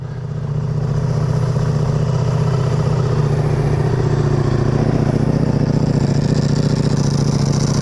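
A Ducati Multistrada V4 RS with a dry clutch idles close by, its engine a loud, steady low throb with the rattling clatter of the dry clutch running underneath, rising in after a brief start and holding constant, no talking.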